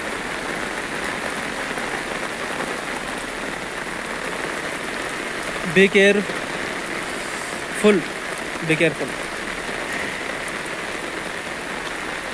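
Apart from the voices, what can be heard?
heavy rain falling outside apartment building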